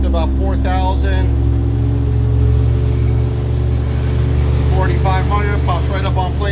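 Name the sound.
motorboat outboard engine throttling up to about 4,000 rpm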